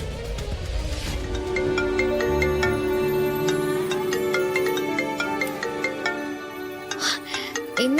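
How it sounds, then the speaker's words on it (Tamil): A phone ringtone plays a steady, tonal musical melody close and fairly loud throughout, in a scene from a Tamil television drama serial. "இந்த நேரத்துல யார் ஃபோன் பண்றாங்க?"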